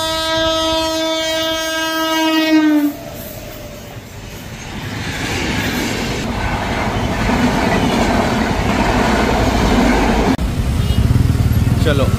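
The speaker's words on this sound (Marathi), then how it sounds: "आता इथे झुकझुक गाडी येणार आहे, ट्रेन येणार आहे, त्यासाठी क्रॉसिंग बंद आहे" A train passes a closed railway crossing near Jhurkheda village, opening with a long loud horn blast, then continuous rumbling and rattling of the wagons going by close at hand.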